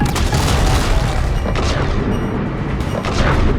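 Heavy booming destruction of a statue in the video game Mass Effect 3, a dense, loud roar of crashing and rumbling impacts that continues without pause for several seconds.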